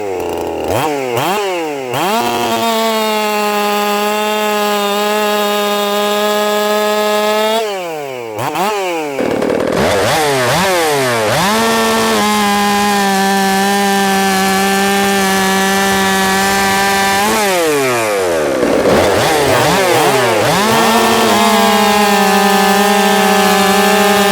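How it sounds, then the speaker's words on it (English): A Jonsered 2165 chainsaw cuts through a log, revving to a loud high whine for several seconds, dropping briefly to idle, then cutting again, three cuts in all, close and without speech. "this is the same log that we made the other test cuts on"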